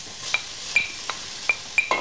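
Chopped onion frying in heated oil in a pan, a soft steady sizzle punctuated by five or six light clicks of stirring against the pan.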